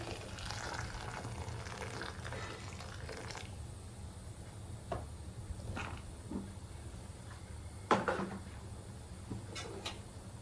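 Freshly boiled water is poured from a kettle into a pan while samai (little millet) upma is made. It is a faint, steady liquid wash under quiet kitchen background noise, with a few soft knocks and clinks.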